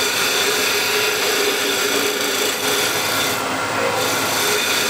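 A woodturning tool cuts a spinning wooden bowl on a lathe while riding the bevel, giving a steady, loud, continuous scraping hiss with no pauses.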